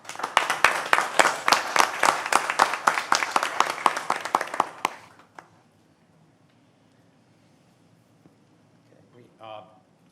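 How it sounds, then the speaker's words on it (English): Applause from the audience at a state community college board meeting, a dense burst of many hands clapping for about five seconds before it stops abruptly, leaving a quiet room with a faint voice near the end. "Let's give a round of applause to Coach Helms."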